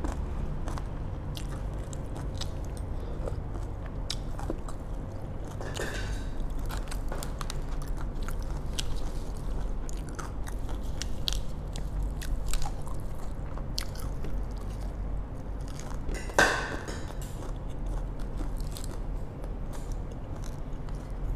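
Crispy fried spring rolls are bitten and chewed up close, giving repeated sharp crunches and crackles over a quiet background, with one louder crunch near the end and no speech.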